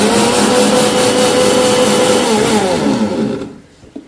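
A mixer grinder coarsely grinding coconut roars loud and steady with a whining motor for over three seconds, then cuts off and winds down into near silence.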